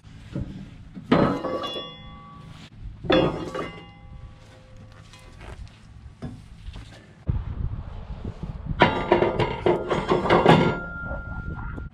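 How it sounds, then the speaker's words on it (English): Steel wedges, including a 6-way, being swapped on an Eastonmade 12-22 commercial log splitter make heavy metallic clanks, thunks and ringing clinks in scattered bursts, with a denser clatter of handling toward the end. "I'll show you just how easy it is to switch them out right now."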